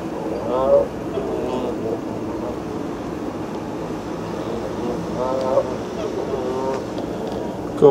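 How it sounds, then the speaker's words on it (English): Geese honk in short bursts at moderate distance on a bitterly cold, snowy day by a canal, with nasal calls rising over steady outdoor background noise. "Oh, what are the geese up to?"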